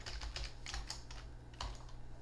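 Fingers tap out a short burst of keystrokes on a computer keyboard, with quick, close clicks at an uneven pace and no talking.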